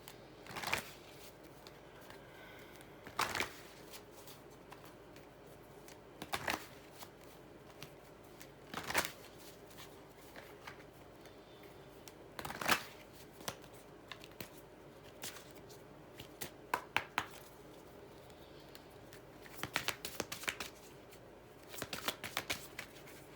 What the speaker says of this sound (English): let's go ahead and pull some cards here